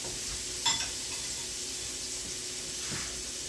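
Garlic cooks gently in a pan on low heat for chicken and shrimp carbonara, giving a faint, steady sizzle with a soft stir or utensil clink near the start.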